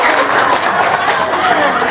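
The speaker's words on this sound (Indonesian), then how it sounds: "Tepuk tangan dong." Loud, close, steady applause from a seated audience at a talk, a continuous wash of many hands clapping with faint crowd murmur beneath.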